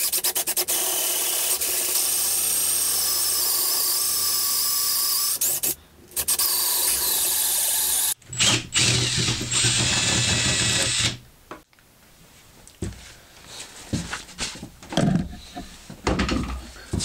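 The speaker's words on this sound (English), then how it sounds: "we're going to drill a 1-inch hole through here so that we can put the plunger in" Drilling a 1-inch hole through wood, a loud continuous grinding rasp that cuts out briefly, then resumes with rougher, uneven scraping and rubbing bursts as the bit works through.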